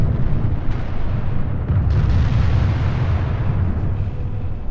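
Loud, dense rumbling artillery fire from a World War II strategy game, Order of War, with repeated booming blasts merging into a continuous roar with no speech.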